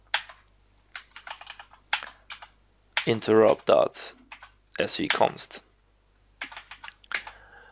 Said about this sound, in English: I'm just typing a little bit and then pressing tab and choosing these with the arrow keys on the keyboard